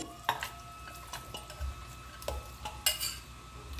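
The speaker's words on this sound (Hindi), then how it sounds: "उसमें हम ये पूरा जो हमारा मटन है उसको हम डाल देते हैं इसमें प्रेशर कुकर में" Soft clinks and scrapes of metal cookware, with a few low thuds as chunks of mutton drop into a pressure cooker, against a quiet kitchen background.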